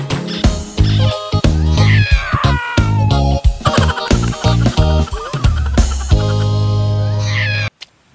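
A cat meows repeatedly within a children's rhyme song, several drawn-out, tuneful meows woven through a bright musical backing, loud and close, with the music carrying on throughout.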